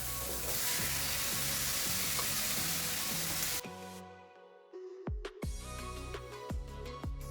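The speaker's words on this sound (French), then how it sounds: "Les oignons sont presque cuits, je rajoute ma viande hachée." Minced meat added to onions and garlic frying in olive oil, making a steady close sizzle that breaks off briefly and then returns with scraping stir sounds and tonal clanks.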